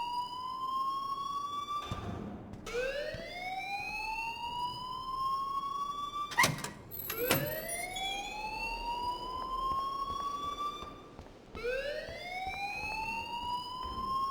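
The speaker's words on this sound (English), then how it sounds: "please turn off that alarm since that's your job" An alarm in the game Life Is Strange, a rising electronic whooping siren that sweeps upward in repeated cycles, with a few sharp clicks between sweeps, moderately loud and without voices.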